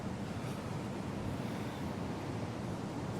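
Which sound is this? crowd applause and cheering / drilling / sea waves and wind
sea waves and wind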